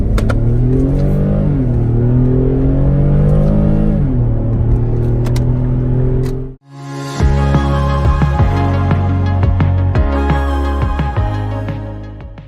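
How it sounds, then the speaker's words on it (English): A 2011 Infiniti M37x V6 with all-wheel drive accelerates hard, its engine note climbing through rising harmonic sweeps. A short gap follows, like a shift or a cut, then the revving engine roars back loud and close with whirring overtones. "we're test driving a really fast car"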